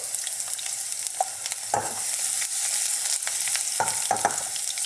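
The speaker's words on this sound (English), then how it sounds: "I'm going to go in now with some lovely sliced garlic." Sliced garlic frying in sesame oil in a pan over high heat, with a close, constant sizzle and a few soft clicks and scrapes as it is tossed, no talking.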